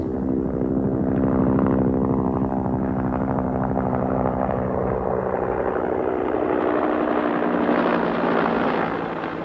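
A Cobra military helicopter flies back overhead at 500 feet, its loud rotor and engine drone steady and close, then slowly fading and thinning as it passes away.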